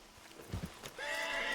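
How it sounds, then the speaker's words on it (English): A horse in the video game Red Dead Redemption II gives a few soft hoof thuds, then a sustained whinny that rises fairly loud at the end, with no talking over it. "Load Anders onto the back of your horse there"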